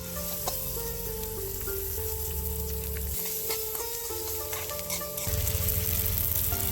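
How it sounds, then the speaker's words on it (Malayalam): Cucamelon pieces fry in oil with mustard seeds, fenugreek, green chili, garlic, ginger and curry leaves, giving a steady close sizzle with occasional pops and stirring, louder toward the end. "കടുക്, ഉലുവ, പച്ചമുളക്, വെളുത്തുള്ളി, ഇഞ്ചി, വേപ്പില എന്നിവ എണ്ണയിൽ മൂപ്പിച്ച് കുക്കാമലൻ കഷ്ണങ്ങളാക്കി അരിഞ്ഞു ചേർത്തു."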